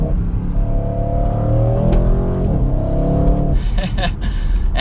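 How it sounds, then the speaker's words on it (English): A sports wagon's exhaust drones loudly as the engine note sweeps through a downshift, ending in crackling pops. "downshift a little bit and listen to that exhaust."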